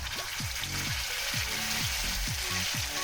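Ground paste of cumin, ginger and green and red chillies sizzles in hot oil in a pan for a Bengali rohu fish curry with drumsticks. The frying is a steady close hiss with a repeated scraping stir, and no one speaks.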